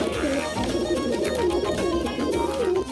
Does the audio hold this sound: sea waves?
no